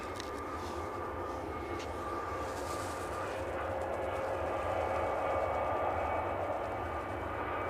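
Finnair jet taking off at Edinburgh Airport, a steady distant engine roar with a faint whine that slowly grows louder, heard alone.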